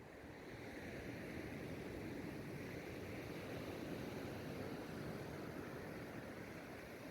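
Sea waves roll in at Spanish Bay beach near Pebble Beach, California, a steady broad wash of surf with faint wind and no clear single breakers, no voices.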